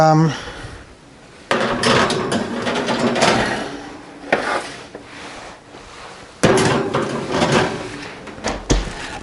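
A home oven door bangs open and shut a few times during seed cracker baking, sharp knocks with rattling between them while a person keeps talking.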